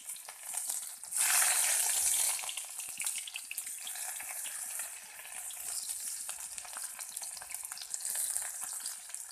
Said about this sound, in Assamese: সেই একেখিনি তেলতে মই পিঁয়াজ দি দিছোঁ।